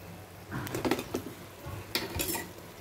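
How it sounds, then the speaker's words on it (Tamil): Masala frying in oil for a hotel-style egg curry, with spoon scrapes and stirring clinks against the pan over a soft sizzle, in a few bursts with no talk. "மசாலா நல்லா வதங்கி வந்துக்கிட்டு இருக்கு, லைட்டாக எண்ணெயும் பிரிஞ்சுக்கிட்டு இருக்கு"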